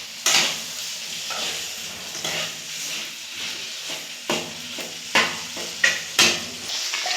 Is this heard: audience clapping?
no